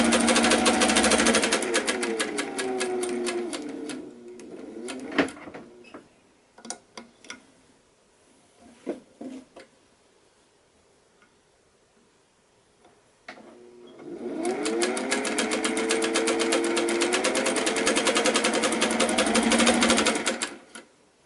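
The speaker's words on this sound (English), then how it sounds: "now I think I can show you some sewing on it" A Singer 101 sewing machine stitching at 6 stitches per inch: a steady, fast mechanical whir and rapid ticking in two long close runs, separated by a quieter stretch of clicks and handling.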